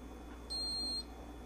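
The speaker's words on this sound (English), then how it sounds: "It'll beep after a few seconds and the time will be set." A Ninja hot and cold brewed coffee maker gives a single short electronic beep, clear and steady, confirming the clock has been set, against a quiet kitchen background.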